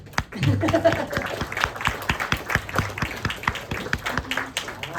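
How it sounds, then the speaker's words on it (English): A small audience at a film Q&A in Chatham, NJ breaks into brisk, uneven clapping for Miss Aimette, with a voice heard briefly near the start and crisp individual claps throughout. "give an applause for Miss Aimette. Jackson."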